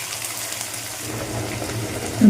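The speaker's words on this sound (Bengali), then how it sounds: "মশলার বাটিটা ধুয়ে একটু জল দিয়ে দিলাম" Water runs into a metal spice bowl as it is rinsed and filled, a soft steady trickle and splash that grows fuller partway through and ends with a brief louder gush.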